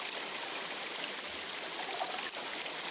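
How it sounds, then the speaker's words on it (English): Natural spring water flowing steadily in an open outdoor space in the video game Metaphor ReFantazio, a continuous close trickling and burbling stream that fills the whole clip with no talk. "Sounds like an open space. Could be a natural spring of some kind."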